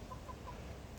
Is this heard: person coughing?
no